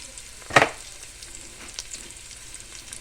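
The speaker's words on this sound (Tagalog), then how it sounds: "pag mas magigisa ako, unahin ko yung sibuyas bago ang bawang" Onions sautéing in a pan for a Filipino coconut-milk bamboo shoot dish with basa fish, a soft steady sizzle broken by one loud clattering stir near the start and a few fainter stirring scrapes afterward, no voices.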